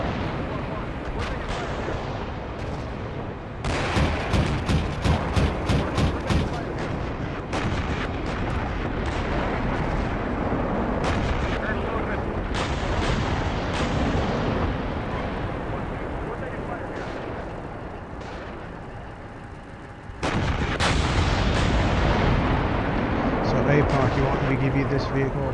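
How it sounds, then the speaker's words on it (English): Gunfire and artillery fire in a military video game, with loud bursts of shots and heavy booms arriving in clusters, a steady rumble underneath and players talking over the combat. "We're taking fire here."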